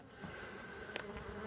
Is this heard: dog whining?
no